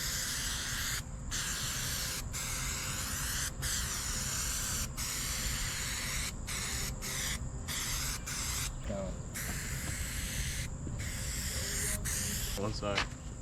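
Aerosol spray hisses inside the cab of a 1973 Ford F100 during interior restoration, loud and close, in long bursts broken by short pauses, with faint voices in places.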